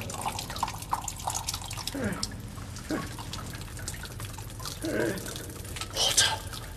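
In a scene from the sci-fi series Blake's 7, water drips in a faint, scattered patter of small drops over a low background hum.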